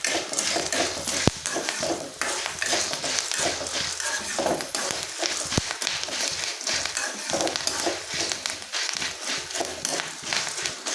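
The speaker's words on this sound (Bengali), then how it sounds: "এখন আমি বুট ভেজে নিচ্ছি আর বুটগুলো কত সুন্দর হয়ে যায় ফেটে ফেটে যাচ্ছে দেখুন" Chickpeas fry in soybean oil, without sand, giving a continuous loud sizzle with scraping and stirring clatter and occasional sharp pops as they split open.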